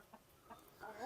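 Household chickens, some kept up to eight years, give a faint, brief cluck near the end of a quiet moment in a home setting.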